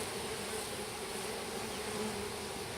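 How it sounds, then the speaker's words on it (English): A dense swarm of honey bees buzzes steadily right at the camera during a package bee installation, a close, continuous hum with no talk. "Getting bees all over the camera now."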